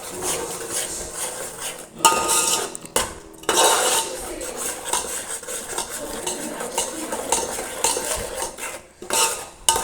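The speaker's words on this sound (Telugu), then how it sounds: "ఇవన్నీ ఒక్కసారి బాగా మిక్స్ చేసుకోవాలి." Dry ground spices for egg dum biryani (biryani masala, roasted cumin powder, turmeric and garam masala) stirred together, giving close metallic scraping and clinking of a spoon against a pan, steady over several seconds with brief pauses.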